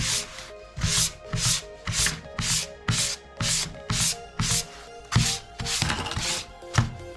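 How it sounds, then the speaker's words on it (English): Fine sandpaper rubs back and forth across leather being shaped into a belt, about a dozen steady, even strokes in a regular rhythm, close and fairly loud with no talking. "get the finer sandpaper"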